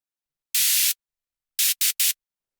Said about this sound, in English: I'm gonna also make some little like white noise bursts for the drop.